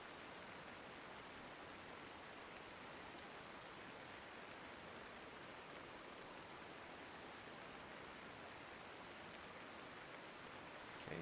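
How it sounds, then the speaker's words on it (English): Steady rain falls as ambient weather in the war strategy game Panzer Corps 2, a faint, even hiss of drops that stays constant throughout with no other sounds. "This really sucks when it's raining."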